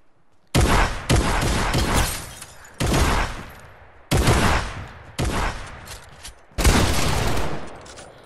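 Video game gunfire in bursts: about six loud, close volleys of rapid shots, each cut off sharply by a short pause, with no talk.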